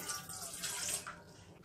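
Water poured from a glass into a steel vessel while making cinnamon tea, a steady splashing pour that fades toward the end.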